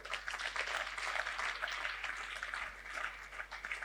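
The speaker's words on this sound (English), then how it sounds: "Clap for Jesus." Congregation at a church service clapping, a dense, steady wash of many hands, moderately loud and continuous throughout with no speech over it.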